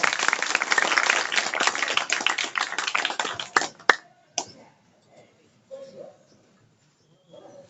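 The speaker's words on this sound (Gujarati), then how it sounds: "તાળી પાડો." Clapping from an audience at a gathering, dense and lively for about four seconds before tapering to a few scattered claps, followed by faint talk nearby.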